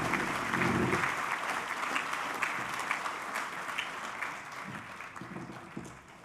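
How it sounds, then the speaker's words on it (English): Warm, sustained applause fills a hall at a Class of 2022 school graduation assembly after a musical performance, a dense crowd clapping evenly for several seconds before slowly tapering off. "I think that deserves another round of applause"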